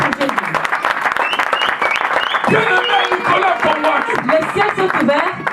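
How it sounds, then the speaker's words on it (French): A church congregation claps loudly and steadily for Jesus, dense applause filling the whole stretch while a voice and singing carry over it. "Mais applaudis pour Jésus"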